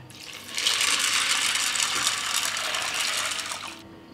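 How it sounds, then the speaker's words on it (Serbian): A litre of water pours into a pot of beans in a steady splashing stream for about three seconds, close and moderately loud, starting and stopping cleanly, with no voices. "Zatim ću sipati litar vode."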